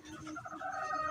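A rooster kept in a cage gives a continuous stretch of soft clucking and crowing-like calls, close and fairly steady throughout, with no talk over it.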